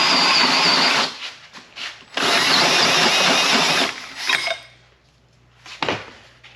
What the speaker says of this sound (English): We're going to hole saw a 3-inch hole through it.